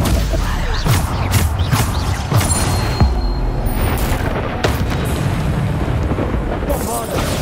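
Bombarda spell explosions in Hogwarts Legacy make a constant, heavy wall of booming blasts and rumbling bursts, loud and dense throughout, with other spell effects layered in.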